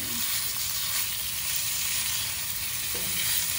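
Ground pork browns with onion and garlic in a pan, a loud, dense, continuous sizzle with steady crackle and no talking over it.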